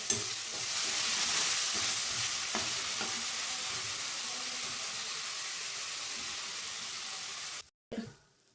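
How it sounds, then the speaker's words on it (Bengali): Spice paste fries in oil in a pan for a Bengali doi pabda dish. A steady, close sizzle hisses with occasional stirring scrapes, then cuts off abruptly near the end. "মশলা কষানো হয়ে গেছে, এর থেকে তেল ছাড়তে শুরু করে দিয়েছে।"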